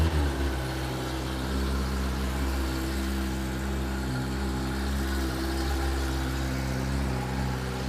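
A 2021 Kawasaki ZX-10R in stock form idles steadily while warming up in a closed garage, a loud, even low rumble with a constant tone and no talk.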